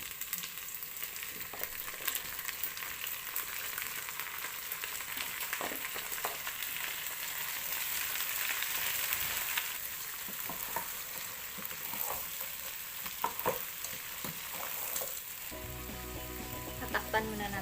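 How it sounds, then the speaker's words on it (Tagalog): Shrimp frying in a hot pan for buttered shrimp with oyster sauce, a continuous dense sizzle with occasional stirring clicks, close and steady, briefly changing near the end. "isunod na natin ang ating shrimp. Ang ating hipon na ating nilinis kanina"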